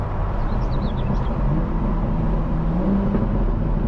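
A 2025 BMW M4 Competition Convertible facelift on the road produces a loud, steady engine and exhaust drone heard from inside the car, even and unbroken with no voices.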